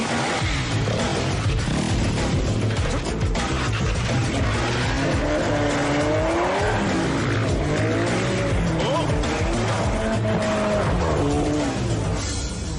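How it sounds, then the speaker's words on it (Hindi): Engine roar and squealing tires from a car in an animated robot film, a loud, continuous mix of revving and screeching layered under music and voices throughout. "और वो मेरी गाड़ी है।"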